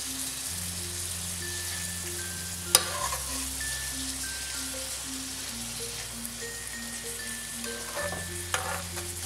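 Spring roll filling of mixed vegetables cooks in a pan, a soft steady sizzle with a couple of sharp utensil knocks, under a sustained musical background.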